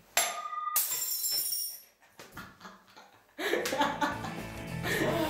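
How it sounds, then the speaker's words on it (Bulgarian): A drinking glass is dropped onto a floor, giving two sharp bright crashes near the start. Laughter and chatter follow on a film set. "ако вземете една чаша и я путнете на пода"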